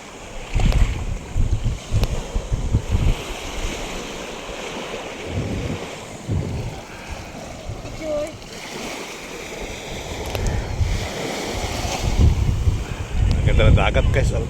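Sea waves and wind rush past a boat off Puerto Galera, Mindoro Oriental, a steady loud wash with buffeting microphone wind noise throughout, swelling stronger toward the end.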